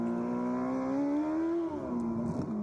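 A MotoGP racing motorcycle engine held on the throttle at high revs, a loud steady harmonic drone that dips and recovers partway through, heard close and alone without talk.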